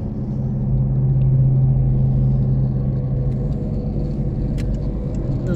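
A car drives along the riverside embankment past Old Riga, a steady close interior rumble of engine and road noise with faint rattles and no voices.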